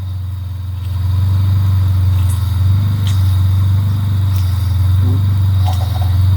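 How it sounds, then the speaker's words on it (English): A 1991–1995 Honda Civic with its steering turned fully left and right makes a steady low engine and tire drone, loud and close, with a few faint clicks and squeaks on top. "This is the tire noise, but this is all the way to the left, all the way to the right, and pump is working fine."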